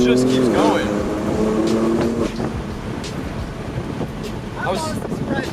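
A tuned Stage 2 BMW F80 M3 accelerating hard, engine note rising and dropping with gear changes under cabin wind roar, while people talk over it.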